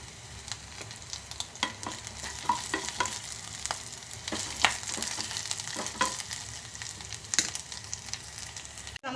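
Curry leaves and dried red chillies fry in hot oil for a curd curry, filling the space with a steady close sizzle, crackling pops and the scrape of stirring, with no voices.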